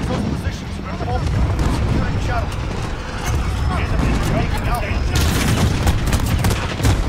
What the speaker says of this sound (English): Okay, RPG 7. RPG. Kaboom!